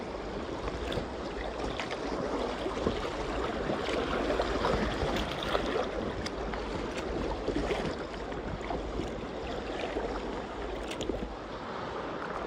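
Small boat running a river rapid in November, with steady loud rushing whitewater and churning spray filling the whole stretch, close and continuous with no voices.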